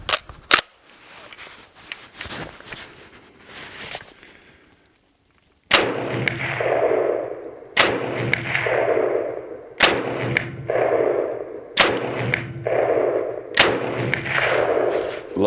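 Chinese Type 97 Gen 3 rifle firing rounds, five loud sharp single shots spaced about two seconds apart, each with a ringing decay, after some quieter handling clicks at the start.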